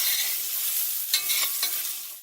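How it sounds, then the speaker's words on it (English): Chicken and garlic sizzle steadily in a cast iron pan while a utensil scrapes and stirs underneath, with a few louder scraping strokes over the constant frying hiss and no talking. "You can kind of see my motion here of getting underneath, shoveling the food from the bottom back to the top."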